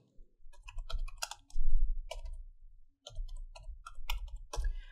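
Typing a command on a computer keyboard at a Windows 11 command prompt: close, crisp key clicks in quick bursts with short pauses between groups of keystrokes.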